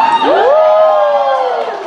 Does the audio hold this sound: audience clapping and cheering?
yes